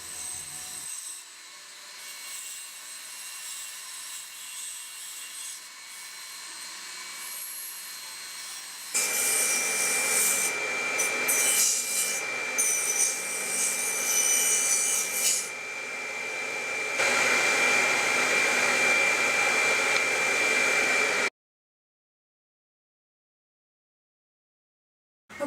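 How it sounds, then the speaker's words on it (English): Rotary buffing wheels polishing a metal cuff bracelet to a smooth finish, a loud steady whirring hum that rises in intensity partway through and runs continuously before cutting off near the end. "I also use additional buffers that I have for my Cordum. Gives a nice smooth finish."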